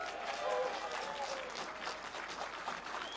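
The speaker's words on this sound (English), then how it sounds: "Come on, another round of applause." Crowd applause at a British farmers' protest against inheritance tax in central London, a steady outdoor wash of clapping and cheering from many people, fairly distant, with voices mixed in.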